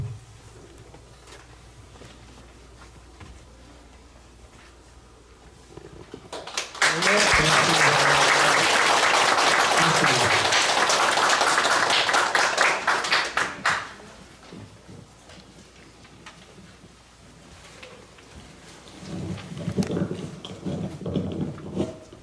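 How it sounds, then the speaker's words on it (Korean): Loud applause from an audience at a Buddhist monk's book publication celebration, swelling for about six seconds between stretches of quieter room sound and murmuring voices. "다시 한번 큰 박수 부탁드립니다"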